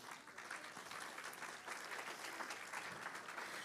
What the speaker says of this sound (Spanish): Te lo dan un aplauso al Señor en esta mañana